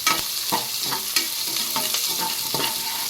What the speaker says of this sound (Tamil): நல்ல வெந்தயம் வாசமும் பூண்டு வாசம் நல்லா ஜம்முன்னு வருது எண்ணெயில் வதக்க வதக்க